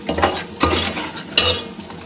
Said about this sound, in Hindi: भून लेंगे तेल के साथ अच्छे तरीके से